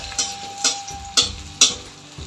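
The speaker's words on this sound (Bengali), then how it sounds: "তো আমি একটা একটা করে ভাজতেছি" Raw green banana and egg koftas bound with a little rice flour and gram flour fry one at a time in shallow oil, close by. A low sizzle runs throughout, broken by four sharp crackling spurts at roughly even intervals, with no talk.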